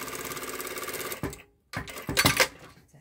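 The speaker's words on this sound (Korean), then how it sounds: "다음에 완성선을 따라서 완성선을 그려 놓은 다음에 미싱으로 완성선을 박음질을 합니다" A sewing machine stitches the seam of a skirt, running in a steady rapid whir for over a second, then stopping with a brief pause before two shorter bursts of stitching close by.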